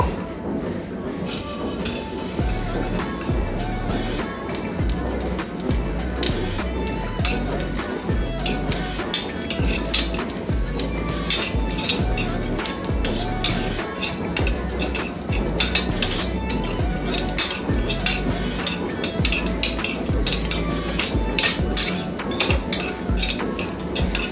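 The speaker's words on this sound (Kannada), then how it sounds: "ಸೊ ಈಗ ಇದನ್ನ ಆ ಶಾಲೋ ಪ್ಯಾನ್ಗೆ ಹಾಕೊಂಡು ಘಮ ಹೋಗೋ ತನಕ ಇದನ್ನ ಹುರ್ಕೋಬೇಕು" Cloves, cinnamon and mace are dry-roasted in a shallow pan, with a spatula scraping and clinking against the metal in a busy, continuous rattle throughout.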